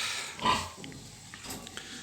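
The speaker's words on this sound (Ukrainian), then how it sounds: "Вона така безпокійна ця свинка, вона гризе там, рве все." A restless pig grunts in a few short, rough snorts close by, the first one loudest, followed by quieter scattered grunts and rustling.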